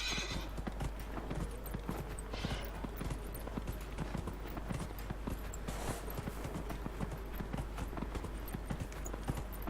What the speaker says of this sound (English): Voy a usar el caballo, más rápido.